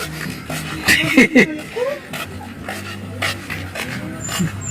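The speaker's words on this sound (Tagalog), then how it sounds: "Hinihingal kasi mainit eh." A dog pants fast in hot weather, its rhythmic breathing close by with a few small whimpers, while people talk over it outdoors.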